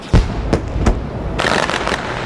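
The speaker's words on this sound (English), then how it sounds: "As the fireworks go off" Fireworks at the end of a sim race broadcast of the Bootleg Racing League Outlaw Modified Series at Lanier, several loud close bursts and pops in quick succession followed by crackling.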